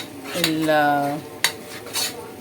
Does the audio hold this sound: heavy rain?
no